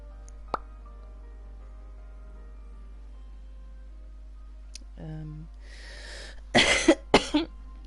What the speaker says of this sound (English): Every time I start a stream, I'm always coughing.